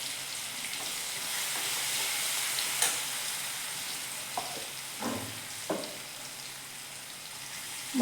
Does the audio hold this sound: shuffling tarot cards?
no